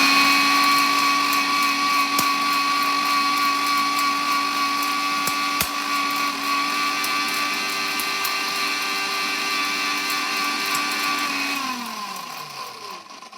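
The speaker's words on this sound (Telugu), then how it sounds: "ఇప్పుడు గ్రైండర్ ఆన్ చేసుకొని" A kitchen mixer grinder grinding spices into fine powder runs with a loud, steady high-pitched whine close by, then winds down as it is switched off near the end.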